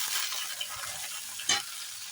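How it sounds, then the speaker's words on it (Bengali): Bay leaves and chopped raw tomato sizzle in hot oil with a bright, continuous hiss, and a single louder clack of a spatula comes midway. "এখন আমি দিয়ে দেব দুইটা তেজপাতা তারপরে দিয়ে দেব কাঁচা টমেটো কুচি"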